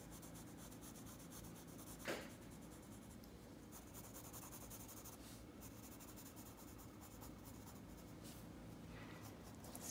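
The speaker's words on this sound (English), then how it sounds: "I'm going to take a darker pencil because I still have to go darker on my shades" Graphite pencil shading on paper for a still-life sketch, a steady soft scratching and rubbing that runs on continuously and close up, with one brief louder stroke early on.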